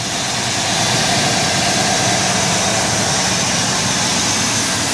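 A 2002 Ford Excursion's 6.8 liter V10, fitted with an aftermarket cold air intake, idles steadily and loudly up close, with the hood open and no pauses or talking.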